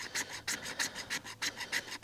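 The spine of a survival knife scrapes a magnesium block in rhythmic rasping strokes, about eight even, close scrapes, each a short gritty burst, with no talking.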